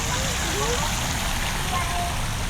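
Fountain water splashing steadily into a round park pond stocked with koi, an even wash of falling water heard close and continuous through a cool evening in a town square.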